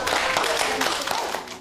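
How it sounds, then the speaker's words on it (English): Young children in a Year 2 religious education class clap briefly, a quick burst of light handclaps that thins toward the end while a teacher talks over it. "let's give them a clap"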